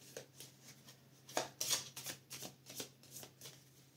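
Cards for the board game Earth being shuffled in a quiet room, a run of soft riffling bursts with a couple of louder snaps partway through, close and faint.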